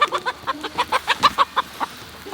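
Hens kept in a sheep net on a farm cluck in a quick, rhythmic series of about a dozen close, moderately loud calls, with no talk.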